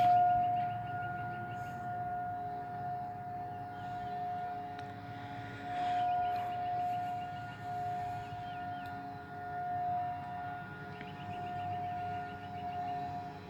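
A 2001-SRNB outdoor tornado siren keeps up a steady, sustained tone over low wind and traffic-like rumble, with no voices and a slight rise and fall in loudness as the sound carries.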